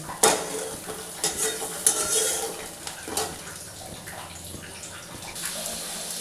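Chopped tomato drops into browned onions frying in a pan, bringing a burst of wet sizzling and stirring close by. The sizzle settles into a softer hiss with occasional utensil scrapes, and no one speaks.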